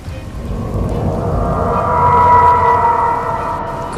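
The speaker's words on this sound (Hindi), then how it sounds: "तभी जोर से बिजली कड़की" Thunder sound effect in a horror story, a long, loud rumbling roll that swells midway and slowly fades, with a steady rain-like wash beneath and no voices.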